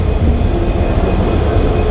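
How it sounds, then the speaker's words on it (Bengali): A Hyundai diesel locomotive, number 3008, hauling the Dhaka–Lalmonirhat Express, rumbles with a steady, loud low-frequency drone that holds continuously without breaks and without voices. "এটা হুন্দাই কোম্পানির একটা লোকোমোটিভ যার নাম্বার হচ্ছে 3008"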